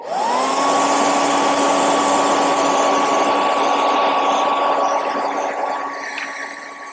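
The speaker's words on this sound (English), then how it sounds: "hit these with a hairdryer real quick." A hairdryer blows on a quarter-scale Hellboy sculpture's bone piece, spinning up quickly to a loud, steady whine and airy rush that continues throughout and softens slightly at the end.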